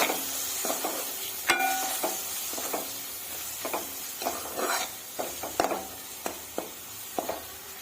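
A spoon stirs egg curry with chilli powder in a sizzling pan, giving a string of scraping, clinking strokes over a steady fry hiss, close and moderately loud, with no talk.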